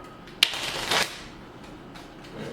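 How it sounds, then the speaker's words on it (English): A deck of Clank Legacy game cards is shuffled by hand, a sharp snap followed by a brief riffling burst, then quiet rustling, close and alone. "this will be the last time I'm going to shuffle"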